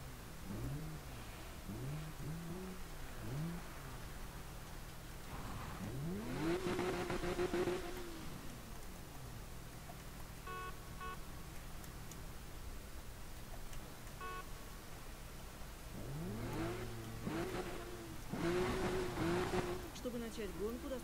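Car engine in the Need For Speed Rivals racing game revving repeatedly, pitch sweeping up and down in loud surges with several rising roars, steady engine drone underneath and a voice speaking over parts of it.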